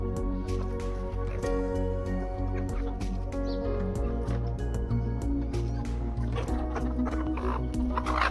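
Aseel chickens, a flock of hens with a large rooster, cluck steadily and close by, with scattered sharp calls layered over a constant tonal hum.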